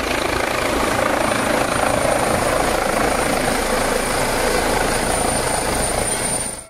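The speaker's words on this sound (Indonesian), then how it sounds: "Helikopter, teman-teman." A toy helicopter gives a steady, loud whirring drone that holds without a break for several seconds before cutting off at the end, with no voices over it.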